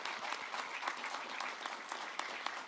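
A library dedication audience gives a round of applause for the Community Hall Association: a soft, even patter of many hands clapping, somewhat distant and continuous throughout.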